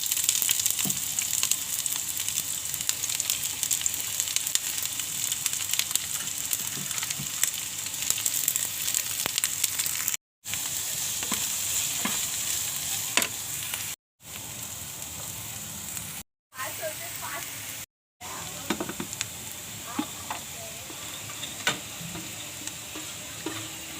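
Sliced onion frying in hot oil in a kadai-style wok, a steady continuous sizzle with frequent scraping stirs, heard close and alone, with brief silent gaps between stretches, while preparing a Malvani-style coconut masala paste.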